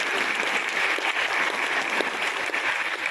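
Audience in an indoor hall at a training program bursts into steady, dense applause, many hands clapping continuously at moderate distance, with no talking over it.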